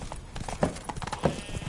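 Roach, a horse in The Witcher 3 video game, gallops in a steady rhythm of clip-clopping hoofbeats, fairly close and moderately loud, with no talk over it.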